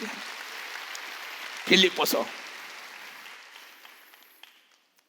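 A church congregation at a Sunday worship service claps in a brief, fairly distant burst of two quick rounds of applause, set between a preacher's spoken words.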